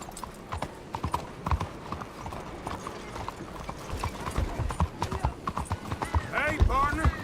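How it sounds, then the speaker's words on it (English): Steady clip-clop of horse hooves in a video game, clear rhythmic clatter throughout with occasional whinnies, under ongoing voices and game sounds. "Very nice horse."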